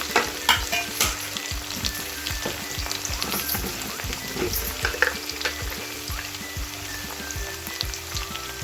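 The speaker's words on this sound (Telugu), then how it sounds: "ఇవి కొంచెం దూరగా ఫ్రై కావాలి" Tindora frying in a pan with curry leaves and salt, a dense close crackling sizzle with frequent rhythmic scrapes and taps of a stirring spoon throughout, no voices.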